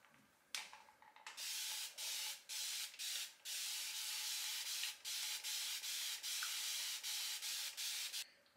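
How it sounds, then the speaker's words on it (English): A handheld spray bottle mists water onto hair in a series of short, close hissing bursts with brief pauses, repeated about a dozen times with no talking. "I'm using my spray bottle to saturate my hair."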